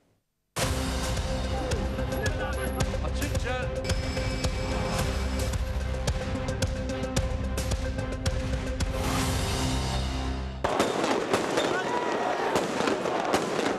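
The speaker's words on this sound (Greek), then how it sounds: "Βομβίδες κρότου λάμψης και βροχή από δακρυγόνα στη διαδήλωση στήριξης των Παλαιστινίων" Stun grenades and tear gas fired at a pro-Palestinian protest outside the Israeli and US embassies, heard as a dense, continuous barrage of loud cracks and bangs after a brief silence, with a short break near the end before more blasts.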